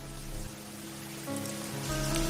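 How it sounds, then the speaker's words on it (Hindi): Heavy rain makes a steady, dense hiss over a surface, with faint tonal music underneath and no speech. "तभी तेज बारिश शुरू हो जाती है।"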